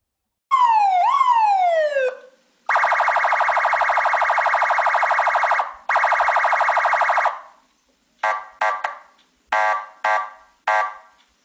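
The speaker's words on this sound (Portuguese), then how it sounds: "Sirene." Loud emergency vehicle siren: a rising and falling wail first, then long sustained two-tone blasts, and finally several short chirping bursts separated by silence, all close and clear with no talking.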